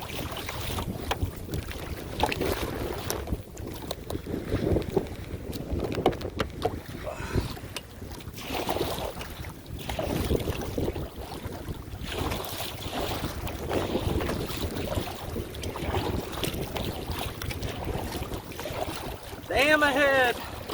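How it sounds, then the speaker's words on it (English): Steady wind buffets the microphone while kayaking toward a dam, with faint water lapping against the boat and a voice talking throughout. "this wind that we're paddling into"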